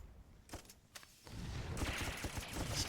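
Gunslinger ability gunfire in the video game Star Wars: The Old Republic, a few sharp shots early, then a denser burst of blasts and rumbling impacts building and continuing, with no voice.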